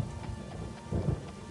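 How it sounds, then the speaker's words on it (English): Rain falls steadily in the video game Daggerfall Unity, a soft continuous patter with a low thunder rumble swelling briefly near the end. "Tiny Boadicea, you've been out in the rain the whole time, girl."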